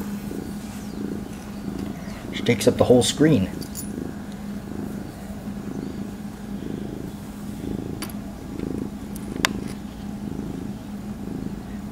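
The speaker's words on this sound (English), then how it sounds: "This is what is known as a big cat." A large domestic cat purrs close by in a slow, rhythmic rumble with a soft pulse on each breath. A person talks over it and a brief jangling rattle cuts in near the start.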